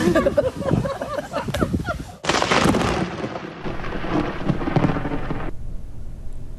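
Thunder from a lightning strike at a wedding booms with a loud crack that rolls into a long, rumbling tail and cuts off near the end, following a stretch of muffled commotion.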